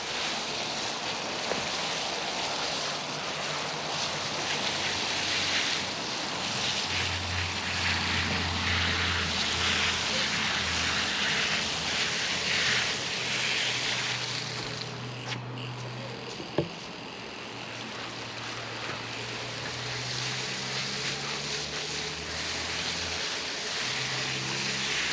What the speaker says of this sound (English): I've got the lance and we'll give it a good thorough soaking through.